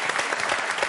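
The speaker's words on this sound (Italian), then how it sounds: "voi che in questo momento mi avete attribuito questo applauso così spontaneo" Spontaneous audience applause in an Italian television studio, a dense continuous burst of clapping heard alone for under a second.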